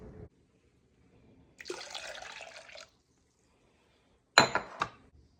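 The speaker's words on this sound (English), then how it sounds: "I strain the rosemary water like several times" Rosemary water pours and trickles through a strainer for about a second, then a few clinks and splashes follow in an otherwise quiet room.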